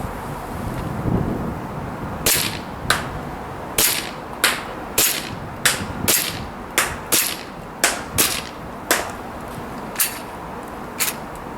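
An EMG BLU compact gas blowback airsoft pistol fires 0.3 gram BBs outdoors in cold weather at a 30 meter target, with about fifteen sharp cracks in an uneven rhythm over a soft wind background.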